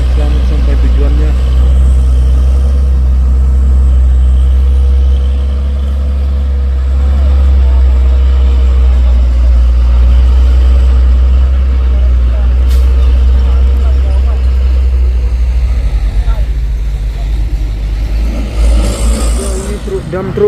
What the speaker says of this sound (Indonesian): Ini dam truk bosku bermuatan batu menanjak